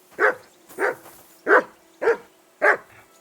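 A dog barks five times in an even rhythm, about half a second apart, close and clear with nothing else over it, in the medieval world of Kingdom Come Deliverance 2.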